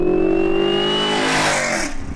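A 1964 Chevrolet Nova wagon fitted with Black Widow exhausts revs hard at LS Fest 2022 in Las Vegas, the engine note climbing loudly and steadily before dropping off at the end, close and with no talk.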